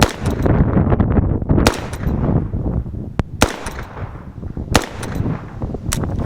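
Gunshots from a PTR 9C firearm fired outdoors in cold weather: loud, sharp reports come in a fast irregular string, several shots close together, with a few isolated cracks later and a noisy rumbling background between them.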